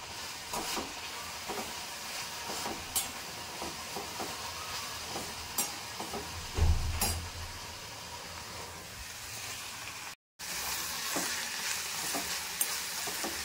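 Cumin and mustard seeds sizzle in hot oil for a tempering, a steady close crackling hiss with occasional stirring scrapes and a brief louder burst midway.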